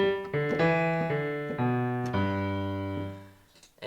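Solo piano picks out a low bass line from a song, a handful of full, sustained notes stepping down and settling on a long final tone, close and unaccompanied.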